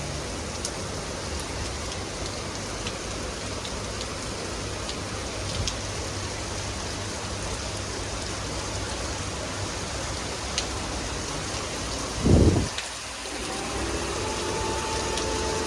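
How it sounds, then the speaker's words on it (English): Heavy rain pours steadily in Dubai near Old Souk metro bus station, a dense, continuous hiss, with a brief louder thump partway through. "Too much raining in Dubai."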